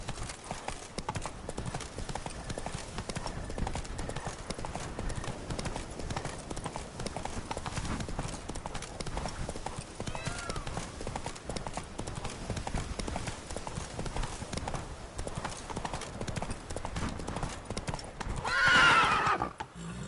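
Roach, the horse in the Witcher 3 video game, gallops with quick steady hoofbeats throughout, a loud whinny rising near the end.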